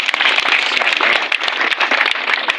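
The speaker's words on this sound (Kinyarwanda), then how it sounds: "mwongere n'amashyi rwose" Crowd clapping at an outdoor presidential campaign rally in Musha, Gisagara, Rwanda: dense, continuous applause with sharp individual claps standing out, loud and close, steady for the whole stretch.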